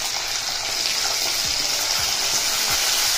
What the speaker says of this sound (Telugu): ఈ దోరగా వేగిన తాలింపులో ఇందాక కట్ చేసుకున్న అరటికాయ ముక్కలు వేసుకుందాం